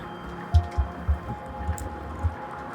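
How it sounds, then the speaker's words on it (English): Water dripping at a rural homestead as a storm approaches, a series of soft, irregular low plops about every quarter to half second, fairly near and quiet, with no talk. "is there dripping?"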